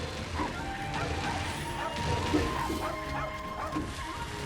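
Dogs yip and bark in bursts amid busy combat effects during Monster Hunter Rise gameplay, mixed under a dense layer of game sound.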